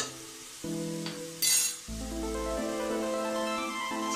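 Ground masala for a pressure-cooker chicken biryani fries in a pan with a close, steady sizzle. A brief burst of sharper crackling and clinks comes as it is stirred, then the hiss settles again, with no talking.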